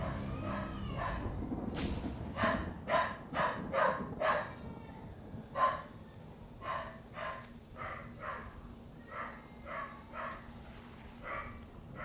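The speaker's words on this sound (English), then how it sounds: "Barking's just making my brain go numb." A dog barks repeatedly at close range, a string of about a dozen sharp, evenly spaced barks with a few yips, heard alone without talk.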